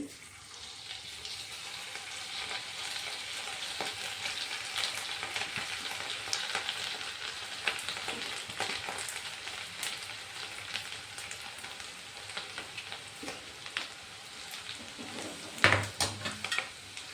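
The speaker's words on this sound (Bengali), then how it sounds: "এইভাবে আমি সবগুলো ভেজে নেব" Thin potato strips for crispy aloo bhujia fry in hot oil with a steady, bubbling sizzle close by, and a brief clatter of a utensil sounds near the end.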